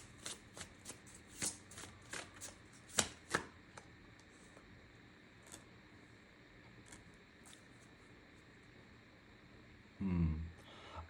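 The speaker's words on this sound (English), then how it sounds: "Let me pull one more oracle card for you" Oracle cards being shuffled by hand in a quiet room, a run of soft riffling slaps and taps that thin out into faint rustles, followed by a brief low thump near the end.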